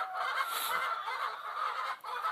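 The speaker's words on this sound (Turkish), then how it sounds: "bunlar da benim horozlarım" Roosters and hens cluck and chatter continuously at close range, a busy overlapping flock sound with no voices over it.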